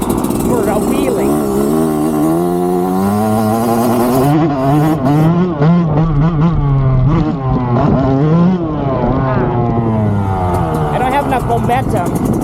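A dirt bike engine revs hard in a lowered gear while the rider sets up a wheelie, its harmonic drone rising and falling close by for the whole stretch, with a rider talking over it.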